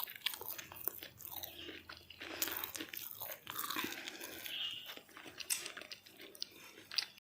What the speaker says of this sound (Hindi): हमेशा की तरह पहला बाइट रवीना को खिलाने के बाद तब मैं खाने जा रहा हूँ।